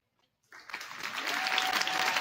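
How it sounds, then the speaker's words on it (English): An audience at a high school girls' basketball game bursts into applause for the senior class, the clapping starting abruptly and holding steady and loud, with a faint whistle-like tone running through it. "a final round of applause for the 2024 Sapphire Senior Class"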